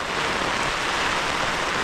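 Heavy rain driven by wind at a lake during a carp fishing session, a loud, steady, dense hiss of drops pattering on surfaces close around, with no speech.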